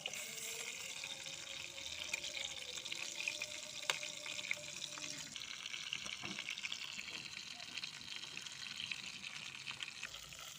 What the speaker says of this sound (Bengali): তেল গরম হয়ে গেছে, আর মাংসগুলো দিয়ে দিচ্ছি